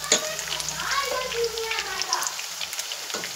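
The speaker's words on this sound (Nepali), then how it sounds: "अब मजाले फ्राई भइसक्यो" Chicken kofta sizzles in hot oil in a pan, a steady crackling fry with scattered pops, close and moderately loud, easing off toward the end.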